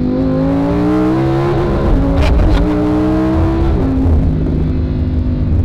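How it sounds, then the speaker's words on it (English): Lamborghini Huracán EVO V10 accelerating hard in Corsa mode, a loud close engine note climbing in pitch through several gears, with sharp shift breaks between the rising pulls. "if you put it in Corsa mode and you put your foot down,"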